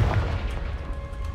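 A Confringo fire spell explodes in the video game Hogwarts Legacy, giving a deep, sustained boom with a rumbling low end and a hissing tail, loud and close, with no other sounds over it.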